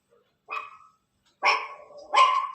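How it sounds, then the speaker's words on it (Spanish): A single dog gives three sharp barks at close range, spaced about a second apart, against a silent background with no talking. "¿Qué perro está ladrando ahí, muchachos?"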